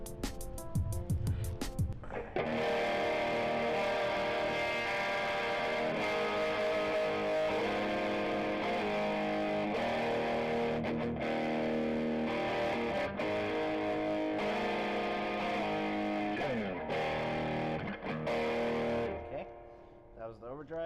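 An electric guitar plays sustained, crunchy chords and notes through an overdrive effect for about twenty seconds, thick and loud with steady ringing harmonics, then fades out at the end.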